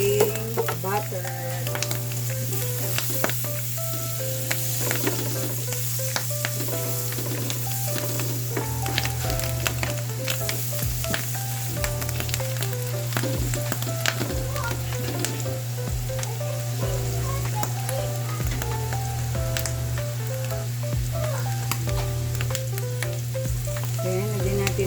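Sliced mushrooms frying in butter in a pan, a dense continuous sizzle with crackling pops and a low steady hum beneath, constant and close with no voices.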